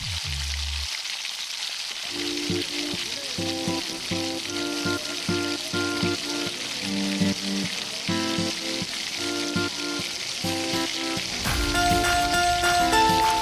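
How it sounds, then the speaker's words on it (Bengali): Pea-filled kachoris deep-fry one at a time in oil over low-to-medium heat, giving a continuous bubbling sizzle beneath steady background music throughout. "এরপরে আমরা লো টু মিডিয়াম আঁচটাকে রেখে আমরা একে একে করে কচুরিগুলোকে ভেজে নেব।"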